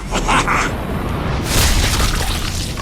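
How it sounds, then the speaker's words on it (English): A bazooka in the shooter game Bulletstorm lobs bouncing balls of doom, heard as a continuous run of loud booming blasts and bursts that swell again midway with a bright crackling edge. "a bazooka that launches bouncing balls of doom"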